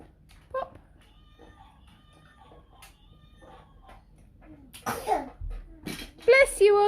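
A young boy sneezes indoors at home, a short burst near the middle, with an adult talking and household sounds around it.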